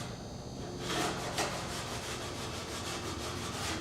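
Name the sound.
sanding winglet leading edge of experimental airplane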